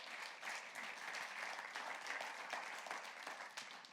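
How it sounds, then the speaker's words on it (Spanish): Church congregation applauding during a sermon by Apostle Edwin Garcia, a sustained wash of many hands clapping, fairly distant and even throughout. "Le da ese aplauso más fuerte a él."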